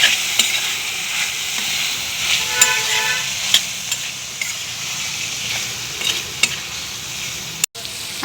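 Red chili powder sizzles and fries in hot oil in a pan while a spoon scrapes and stirs it in repeated strokes, with a faint car horn in the background near the end.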